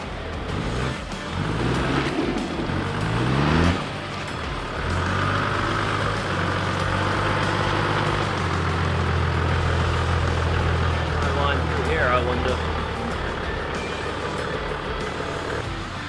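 Off-road vehicle grinding through deep washouts on North Range Road in the Manawatu ranges, a steady loud engine drone with revving rising and falling throughout, close and continuous with no talk.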